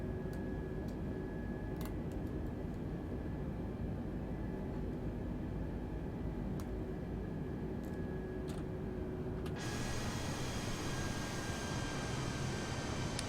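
An Airbus A320neo climbing in Microsoft Flight Simulator, heard as a steady engine and airflow drone with faint tonal hum and scattered soft clicks; the noise shifts brighter near the end.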